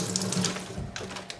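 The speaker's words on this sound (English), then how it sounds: "Just gonna give my hands a quick rinse." A running kitchen tap splashes as hands are given a quick rinse, a short close burst of water with no talking.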